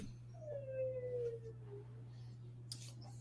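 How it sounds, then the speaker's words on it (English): A pet dog howls in a single drawn-out, falling wail that trails off, heard close against a steady low electrical hum, with a faint clatter near the end. "My dog, yep, there he goes."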